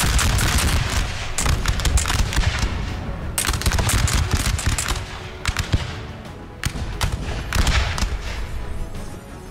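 Infantry musket volleys in the game Napoleon: Total War, repeated ragged crackling salvos with heavier booms, loud and continuous across a battlefield in irregular waves.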